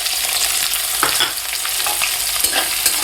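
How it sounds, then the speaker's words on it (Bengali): Chopped onions sizzle in hot oil while a spoon scrapes and stirs them around the pan every second or so. "কুচনো পেঁয়াজগুলো লাল লাল করে আমি ভেজে নেব।"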